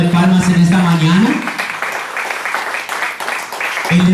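A church congregation claps together during a Sunday morning service, a dense burst of applause that follows a preacher's voice and fades as he speaks again.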